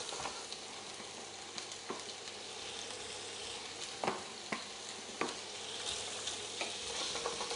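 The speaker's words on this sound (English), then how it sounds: "we're going to let them sizzle away there for a moment" Meatballs frying in a pan give a steady, close sizzle with crackling throughout, punctuated by a few sharper pops and spits; no one speaks.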